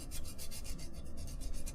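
Hand sanding rasps over the edges and crevices of a surface being prepped for repainting, quick repeated back-and-forth strokes, close and steady, with no talking.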